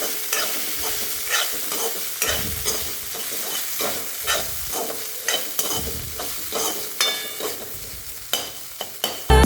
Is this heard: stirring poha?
yes